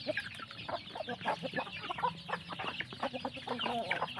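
Farm chickens cluck busily while being fed pellets and rice bran, a dense, close chorus of overlapping clucks and short calls in a steady stream without speech.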